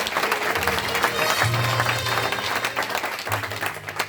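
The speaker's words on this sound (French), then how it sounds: "Applaudissements." An audience applauds during a speech in a hall, a steady wash of clapping from many hands lasting several seconds, with some low hum and background voices beneath it.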